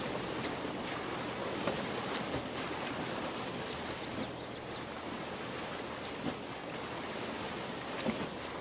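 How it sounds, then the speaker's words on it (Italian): A water mill on the Pallegney map in Farming Simulator gives off a steady, dense rush of running water that fills the scene evenly throughout, without talking. "In effetti è un mulino d'acqua."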